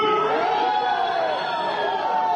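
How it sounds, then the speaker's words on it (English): A large crowd boos and jeers a speaker addressing a mosque gathering, a continuous dense roar of voices held at a steady level throughout with no pauses. "So everyone's booing"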